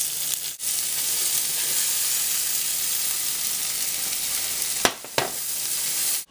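Yellow onion and pearl onions sizzle in oil in a pan used for beef stew, a loud steady hiss broken by brief dips and a couple of stirring scrapes.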